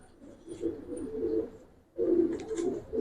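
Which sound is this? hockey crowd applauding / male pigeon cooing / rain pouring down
male pigeon cooing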